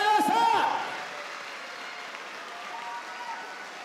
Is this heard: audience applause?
yes